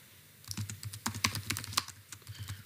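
Rapid typing on a computer keyboard while entering a full IPv6 address, with quick, irregular key clicks at close range and fairly quiet.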